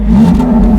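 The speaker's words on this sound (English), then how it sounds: "Just listen to that little raspy burble. You're going to give it a rev." A 100 horsepower Fiat Panda engine gives a brief, loud, close raspy burble as it revs, with a low throbbing tone lasting under a second.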